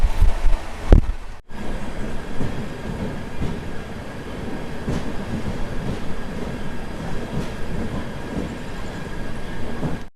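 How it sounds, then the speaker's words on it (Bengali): Heard from aboard, a fast-moving express train on the Sealdah to Puri route keeps up a loud, continuous rumble with rhythmic wheel clatter and a brief sharp jolt near the start. "চলছে রোহত এক্সপ্রেস তাও প্রচুর জোরেও চলছে"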